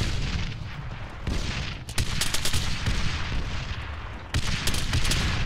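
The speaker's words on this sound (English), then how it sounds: "That's the shotgun." A shotgun fired in a shooter video game: loud, close blasts and heavy bursts of gunfire with booming tails, repeating through a dense battle din.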